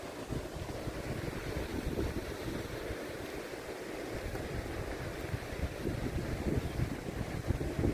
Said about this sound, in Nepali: पछाडि समुद्र ठुलो।